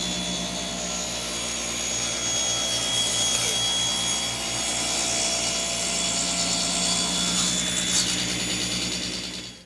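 A table saw cuts a board guided by a taper jig, giving a steady, loud whining roar with a rough rasping texture that holds for the whole cut and then cuts off abruptly.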